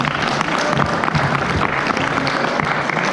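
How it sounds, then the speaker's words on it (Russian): Continuous audience applause at a holiday concert in Yakutsk, a dense wash of clapping from a large crowd, steady and fairly loud throughout. "еще раз аплодисменты!"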